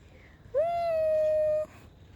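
A tailor bird gives a single clear whistled call lasting about a second, steady in pitch after a short upward rise, loud and close against quiet surroundings.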